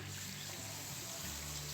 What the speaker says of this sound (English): And then I have 2 cups of water that I'm gonna add in with this.